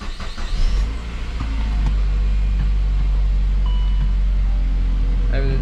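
A Saab 9-5 with newly installed subframe bushings drives along, its engine and road noise rising into a steady loud rumble, with a voice talking briefly over it at the start.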